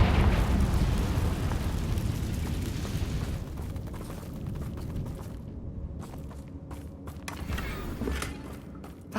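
A Confringo fire spell explodes in Hogwarts Legacy on PS4, opening with a loud, dense, roaring blast that rumbles on and slowly fades. Scattered crackles and debris-like pops follow, with no talking.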